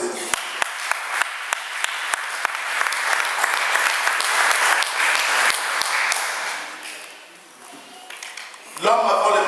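A church congregation bursts into applause during a sermon on the doctrine of Jesus Christ, sharp claps at first, then a dense sustained ovation that fades, with voices rising near the end.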